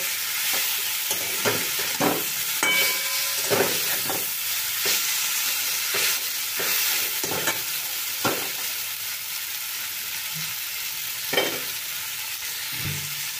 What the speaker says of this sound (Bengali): সব শুদ্ধ আর একবারও আমি নাড়াচাড়া করে একটুখানি সাঁতলিয়ে নেব।